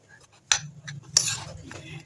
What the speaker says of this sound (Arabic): نبتدي نضرب ونقلبهم كويس مع بعض